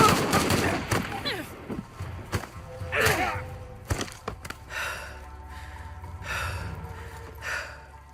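Rapid gunfire in a shootout from Shadow of the Tomb Raider, sharp bursts and single shots cracking through the first seconds, then scattered pops and whooshing impacts fading out beneath shouting voices.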